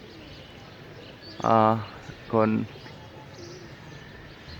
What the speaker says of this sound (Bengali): কবুতর উড়াবো একটু ভালো মতো